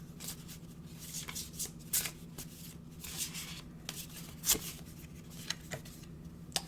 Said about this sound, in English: let's pull a oracle card, see what the oracle has to say.